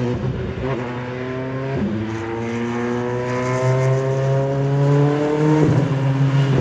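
An LMP2 prototype race car roars around a circuit at an easy pace, its engine a loud, steady drone with harmonics climbing and dropping as it revs up and shifts gears, holding close and continuous throughout.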